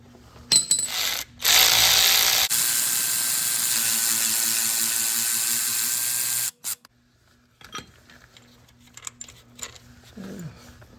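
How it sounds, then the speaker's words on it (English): A cordless impact tool removes a starter bolt on a Toyota Echo, whirring in short bursts, then running steadily for several seconds before stopping, followed by faint clinks and handling noises. "And we'll get the battery power tools."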